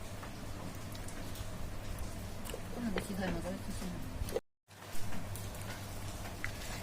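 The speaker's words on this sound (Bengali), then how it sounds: "আর বাইরে রিমঝিম বৃষ্টি পড়তেছে।" Steady, soft monsoon-style drizzle patters outside in a continuous wash, with voices talking over it throughout in a kitchen.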